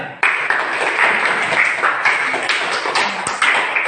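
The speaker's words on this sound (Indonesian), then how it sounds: "kita beri aplaus kepada teman kalian" A classroom of students claps for a classmate, steady dense applause that carries on throughout at close range.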